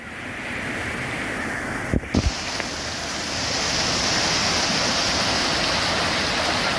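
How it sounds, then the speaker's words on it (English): Water park fountains at Legoland Water Park Dubai, a continuous broad rushing splash of spraying water that swells slightly louder midway, with a couple of brief knocks, no talk. "You have to go through the fountains."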